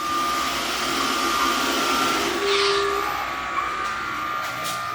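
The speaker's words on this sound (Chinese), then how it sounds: "当机器人看到前方有一滩好油污渍的时候，它就会马上把主刷抬升，边刷抬升" A MOVA Z50 Ultra robot vacuum runs its suction fan with a loud steady whooshing hiss and a thin whine, the tone shifting briefly midway as its main and side brushes lift, continuing without speech.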